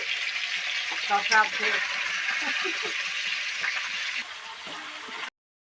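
Chicken sizzling in a pan with cumin, ginger, garlic, onion and bay leaf, a steady close hiss of frying oil with occasional stirring clinks, while people talk over it.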